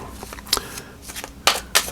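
A tarot card deck being shuffled by hand, giving two quick bursts of crisp riffling card noise with softer handling in between, close and fairly loud.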